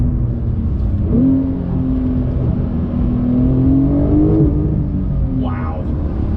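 A 2021 Porsche 911 Turbo S pulls hard on throttle, its engine note climbing steadily in a loud, continuous rising drone before easing off, heard from inside the car.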